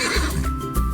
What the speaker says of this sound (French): Le cheval